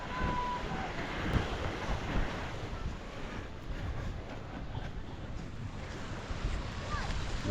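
Sea waves washing onto a black sand beach in Dinahican, a continuous broad surf wash with wind buffeting the microphone, fairly quiet and steady throughout.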